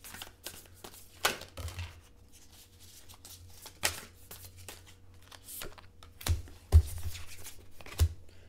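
Tarot cards being shuffled in soft, irregular bursts of papery riffling and flicking, close and fairly quiet, with a few sharper slaps of cards settling; no talking.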